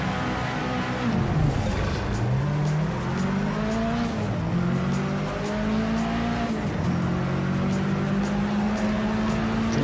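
A race car engine in the video game Project Cars 3 revs and shifts through gears, its pitch climbing and dropping repeatedly, loud and close, with tire squeal mixed in and no talking.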